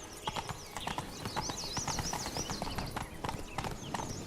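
Horse hooves galloping in the video game The Witcher 3, a steady, fast clip-clop rhythm close and clear over soft ambient background.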